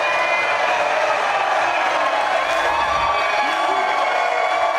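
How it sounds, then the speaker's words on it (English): A bowling crowd at a PBA King of the Lanes event cheers loudly and continuously, a dense roar of voices and whoops filling the lanes without pause. "this crowd is going crazy for you"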